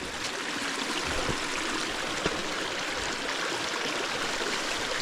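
Flowing stream water rushes and gurgles steadily and fairly close, a continuous wash of sound with no talking.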